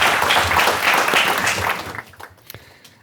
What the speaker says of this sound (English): Big round of applause to Maaike